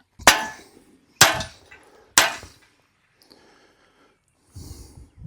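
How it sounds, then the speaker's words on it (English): A sledgehammer pounds a metal bar, attempting to bend it: three loud, ringing impacts about a second apart, each with a sharp broadband strike and brief metallic decay, followed by quieter breathing and faint rustling. "I'm just going to hit it a few times and see what happens."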